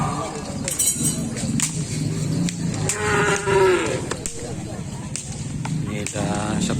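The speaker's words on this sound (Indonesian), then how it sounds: "Ini ada sapi setel balap" Racing bulls low and moo repeatedly at a Karapan Sapi bull race, loud and close amid a busy crowd, with people talking throughout.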